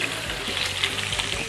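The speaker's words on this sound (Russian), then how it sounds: "Положим картошки здесь, чтобы жариться." Potatoes frying in a pan in a restaurant chef's kitchen, a close, continuous crackling sizzle with faint stirring, brief and steady.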